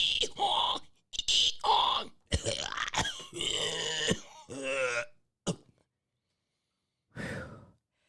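A man pauses to clear his throat, with a few gruff throat-clearing bursts and sighing breaths close to the mic, then a short silence and one last exhale.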